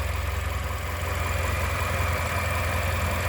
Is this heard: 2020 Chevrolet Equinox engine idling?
yes